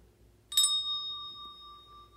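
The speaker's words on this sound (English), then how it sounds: "It's a bell." A single bright bell strike rings once, clear and close, then its pure tone sustains and slowly fades over about two seconds in an otherwise quiet setting.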